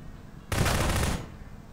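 A burst of automatic gunfire in the Prop Hunt video game, fired at a cabinet: a dense, loud rattle lasting under a second, alone between quiet stretches.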